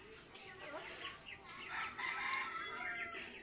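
Chickens on a small farm, with busy clucking and a rooster's crow rising over a steady outdoor background, fairly close and moderately loud across the whole stretch.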